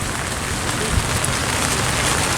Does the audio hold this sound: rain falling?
yes